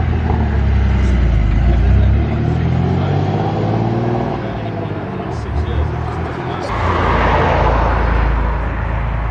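A Porsche 911 Turbo flat-nose LE engine revs hard nearby, swelling and falling in a throaty roar before climbing once more, with people speaking over it.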